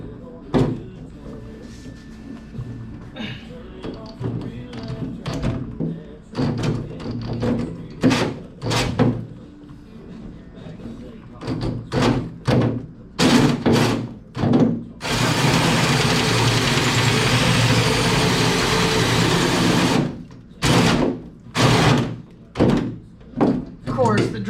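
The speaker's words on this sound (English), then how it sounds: "Drill battery would die in the middle of cutting it" Cordless drill cutting a hole through the metal hood of a 2.0 TDI CJAA Jetta for a hood stack: scattered thumps and talk, then about five seconds of loud, sustained grinding that stops abruptly before more knocks.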